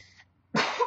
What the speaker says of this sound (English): Sorry that I'm coughing so much.